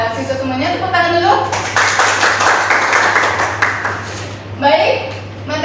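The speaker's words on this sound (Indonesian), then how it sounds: "Tepuk tangan dulu" Students in an Indonesian-language classroom clap their hands for a stretch in the middle, a short burst of group clapping with a teacher's voice before and after over a steady electrical hum.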